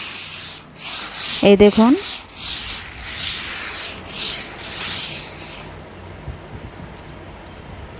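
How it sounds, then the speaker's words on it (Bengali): Rice grains are spread thinly by hand on a rooftop to dry, giving a soft, rasping rub over the surface in short sweeps, with a brief voice and a short tonal sound early on. "এইভাবে পাতলা পাতলা মিলে দিচ্ছি"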